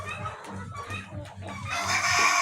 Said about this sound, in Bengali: এগুলো হচ্ছে মিশরি ফার্মি মুরগি